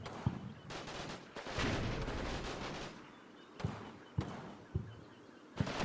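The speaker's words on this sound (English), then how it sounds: "We're hitting this location with mortars now." Mortar rounds fall in the WW2 video game Combat Mission: Fortress Italy, set in northern Sicily. Sharp, heavy explosions land one after another with rumbling gaps between them, several loud blasts in irregular succession.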